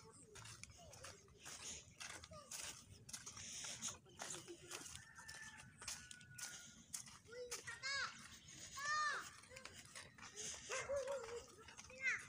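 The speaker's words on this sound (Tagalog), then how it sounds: "Alam mo, may aso na." Dogs bark and whimper repeatedly outdoors by a river, mixed with children's voices, people talking and a rooster crowing in the background.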